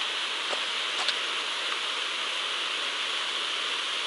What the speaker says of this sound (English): First waterfall of the trip.